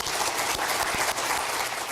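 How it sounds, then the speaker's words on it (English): An audience bursts into dense, sustained applause welcoming a minister onto the stage at an agricultural forum, many hands clapping at once in a steady roar with no voices. "So we would please join me in a round of applause as we welcome Minister Sigurdson to the"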